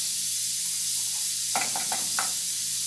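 A spoonful of butter drops into a hot rice pot and gives a few quick sizzling spits over a constant close hiss.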